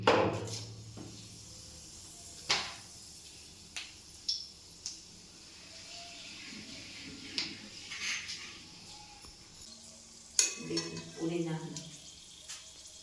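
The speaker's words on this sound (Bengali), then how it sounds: "এর মধ্যে আমি কিছু ফোড়ন দিয়ে দিচ্ছি: শুকনো লঙ্কা, এলাচ, তেজপাতা এবং গোটা জিরে।" Dried red chillies, cardamom, bay leaves and whole cumin crackle in hot mustard and sunflower oil, a faint steady sizzle broken by a few sharp pops and clinks of a utensil.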